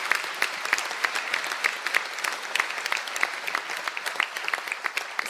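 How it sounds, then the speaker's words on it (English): Audience applause at a college conferring ceremony, sustained even clapping from a sizeable crowd, close and clear for the whole stretch with no talking over it. "And we'll have a round of applause for the students in those groups"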